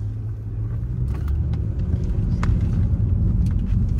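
A car rumbles along loudly from inside the cabin while swerving and taking corners hard, its engine and road noise rising steadily, with faint rattles and jingles of loose objects.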